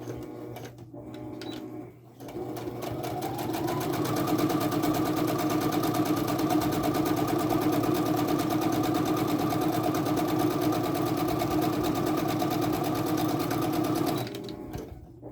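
A sewing machine stitches down the edges of a fabric snap bag in one long continuous run, close and loud with a fast, even mechanical whir that starts after a few brief taps and stops near the end.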